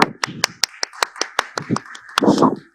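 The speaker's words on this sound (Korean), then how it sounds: "오, 뜨거운 박수로" Church congregation clapping during a downtown campus worship service, a dozen or so sharp, separate claps in an uneven rhythm, close and fairly loud, with a brief burst of overlapping clapping and murmur near the end.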